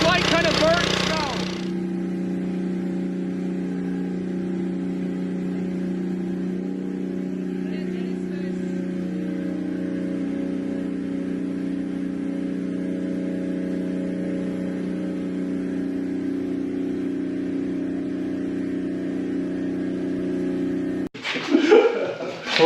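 Plasmoid car machine running with a steady, loud low hum and drone held throughout, a brief burst of voices at the start and again at the very end.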